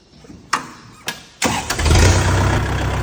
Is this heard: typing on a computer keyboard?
no